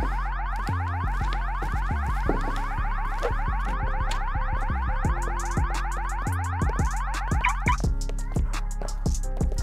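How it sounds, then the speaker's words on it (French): A car alarm blares loud and close, cycling through a rapid series of repeating electronic tones that change pattern partway through. It runs continuously with no voices. "Pourquoi l'alarme s'est-elle déclenchée comme ça?"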